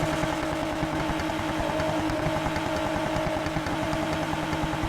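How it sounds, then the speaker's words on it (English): Engine and exhaust note of a Polestar 1 in the racing game Need for Speed Heat, a steady idling rumble with a continuous tone running unbroken throughout, no talk. "Let's do the exhaust sound."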